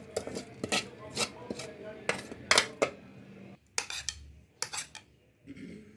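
A spoon clinking and scraping against a plate of reheated boiled rice mixed with leftover potato and mince curry, with repeated close metallic taps and scrapes in an uneven rhythm and a short pause midway.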